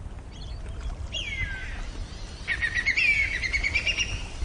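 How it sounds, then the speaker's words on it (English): A whistling kite calling outdoors at an old place near water: two clear descending-then-rising whistled calls, the second longer and wavering, moderately near over a low background rumble. "And there's the whistling kite."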